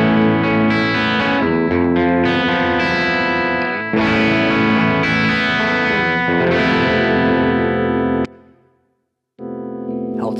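Gibson SG electric guitar played through effects, loud distorted chords ringing out with a heavy, full tone, then a brief silence before it starts again.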